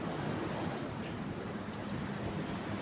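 Sea waves and an ocean breeze at a beachside bar and restaurant make a steady, loud, unbroken wash of surf and wind noise across the whole stretch.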